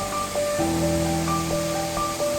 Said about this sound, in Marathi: बंधाऱ्यावरून कोसळणारे पाणी एखादा डॅम किंवा धबधब्याप्रमाणे भासत होते सबंध ओढा एकाच लयमध्ये खळखळत होता